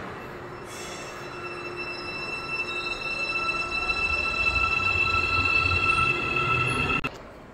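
A Seoul MRT train in South Korea rolls through a quiet metro station with a steady rumble and high metallic wheel squeal, growing louder before cutting off near the end; no talking.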